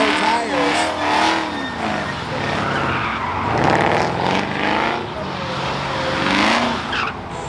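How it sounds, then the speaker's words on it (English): A Hellcat-swapped Dodge Dakota drifts at speed, its tires squealing in long wavering howls over a loud, steady engine roar, with a crowd and commentary mixed in throughout. "Drift action, not gonna blow tires that way."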